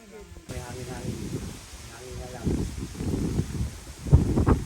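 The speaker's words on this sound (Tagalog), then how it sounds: "Hindi maganda ang panahon at malakas ang hangin" Steady strong wind roars and buffets the microphone on a mountain peak throughout, with gusty surges and rumbling low noise, loud and close.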